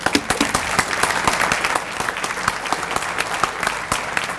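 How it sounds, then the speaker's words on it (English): A breakfast audience gives a sustained round of applause, dense steady clapping from many hands that carries on evenly throughout. "So please give a big round of applause."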